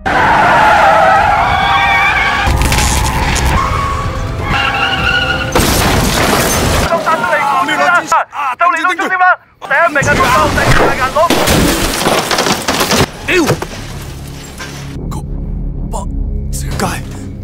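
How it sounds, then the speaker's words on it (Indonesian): A truck crash scene in an action film, loud and dense, with screeching skids, heavy booms and engine roars piling up, broken by brief silent gaps, while voices talk over parts of it. "kecelakaan terjadi yang membuat truk itu jatuh di sebuah rumah kakek tua"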